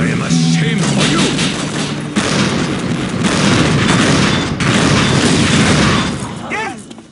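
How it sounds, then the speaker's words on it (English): An explosion in Unreal Tournament 2004 sets off a loud, sustained booming roar with heavy thuds and crashing debris, mixed with game voice lines, then fading at the end. "Yes, explode!"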